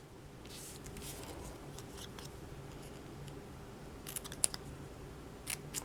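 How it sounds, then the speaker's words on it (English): Scissors snipping paper to cut a small V shape for a craft frame, a few quiet crisp cuts at close range with soft handling noise between them. "I cut in the center and then on both sides."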